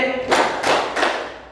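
A class claps together in a 'tepuk' routine in an Indonesian vocational high school classroom, giving three sharp, evenly spaced bursts of group clapping with no talk.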